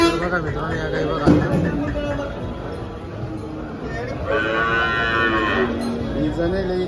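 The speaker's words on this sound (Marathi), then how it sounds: "या गाई बघा" HF and Jersey cows at a cattle market in Dhule, one loud, drawn-out moo rising close by midway through, amid people talking and background murmur.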